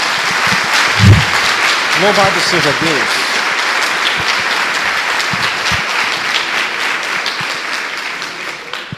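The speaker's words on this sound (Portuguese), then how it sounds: "Dê uma salva de palmas a Jesus" Church congregation applauding during an evangelical service, steady dense clapping throughout, with a voice speaking briefly over it near the start.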